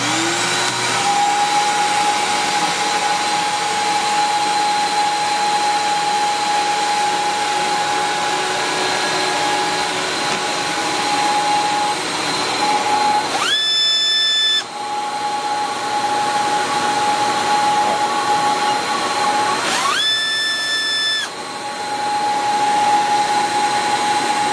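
A Steambrite Cross American Jaguar vacuum runs loud and steady during an airflow test through a 2 1/4 inch port, its whine holding throughout with two brief pitch shifts as the flow is blocked or changed, no voices.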